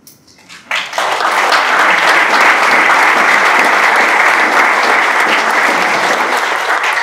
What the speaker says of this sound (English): The applause are appreciated, trust me.